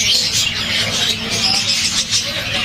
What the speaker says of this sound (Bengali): পাখিদের কলরব